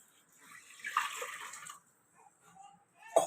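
Water is poured from a cup over four medium potatoes in a pressure cooker, a soft splashing trickle lasting about a second and a half, then quiet clinks and a sharp knock of the pot or lid at the end.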